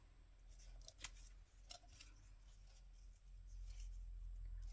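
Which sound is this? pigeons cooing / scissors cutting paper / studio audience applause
scissors cutting paper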